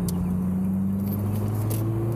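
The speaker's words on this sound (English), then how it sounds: "Listen to your car." A manual Scion tC's engine hums steadily while driving in second gear, a constant close drone with a rising tone, no voices over it.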